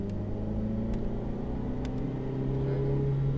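A Ferrari F8 Tributo accelerates on the Circuit de Haute Saintonge, its engine a steady, loud rumbling drone heard from inside the car as the pitch rises slightly.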